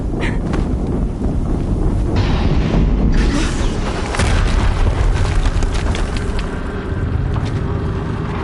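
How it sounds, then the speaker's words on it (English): Loud, dense booming explosion in the Horizon Zero Dawn video game, sustained rumbling blasts with crackling debris filling the whole stretch without letup. "Another explosion."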